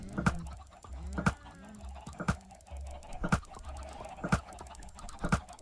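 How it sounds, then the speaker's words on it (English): Chickens in the Minecraft video game cluck in repeated short bursts, a crowded flock of game sound effects heard close and clear, roughly one sharp cluck every second over a soft background. "Oh my goodness, that's a lot of chickens."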